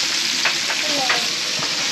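Food sizzling and frying steadily on a home barbecue grill in Mallorca, with sausages, burgers, sweet corn, sweet potato and peppers cooking; a continuous close crackling hiss with faint pops, and no talking.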